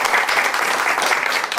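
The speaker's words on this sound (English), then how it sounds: "a handful of applause for these coordinators" A meeting audience gives loud, steady applause for the coordinators, with many hands clapping together at close range.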